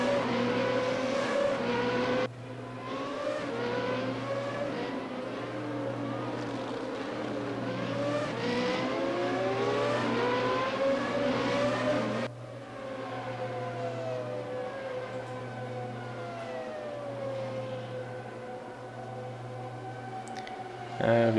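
Race car engine in the RaceRoom racing game, a Formula single-seater at Paul Ricard, loud and continuous with rising and falling revs through gear changes, heavy braking and wheel lockup, and another car close behind.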